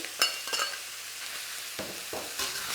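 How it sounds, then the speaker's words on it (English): Noodles and beef are stir-fried for chow mein in a pan, giving a soft frying hiss with several brief scraping and tossing bursts of a utensil against the pan. No voice is heard. "Give it a quick stir, mix everything through."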